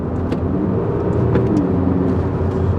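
A 2015 Seat Leon ST wagon accelerates hard under a manual gear shift, its engine a loud, steady, close-up roar from inside the car with a brief change in pitch partway through.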